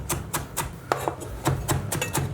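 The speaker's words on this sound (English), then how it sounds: "we're just going to finely chop this" Fresh parsley is finely chopped with a knife on a board, giving a brisk series of crisp, evenly spaced taps, close and clear with no talking.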